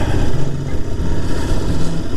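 A Royal Enfield Interceptor 650 motorcycle engine thrums close by in a steady, loud, low drone with slight rises and dips, and no voices over it.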